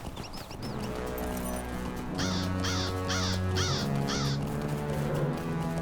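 Crows caw in the video game Lord of the Rings Online, a run of five harsh, evenly spaced calls over a steady low drone of game music and hoofbeats.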